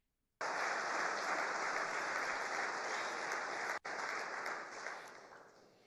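A crowd at a Trump political speech breaks into sudden, sustained applause and cheering, dense and steady, dipping for an instant and slowly easing toward the end.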